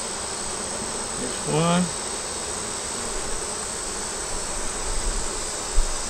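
Honey bees buzz around an opened hive after a hot month. A steady, close insect drone runs throughout, with a brief louder buzz pass near the start and a few faint handling knocks. A voice speaks briefly.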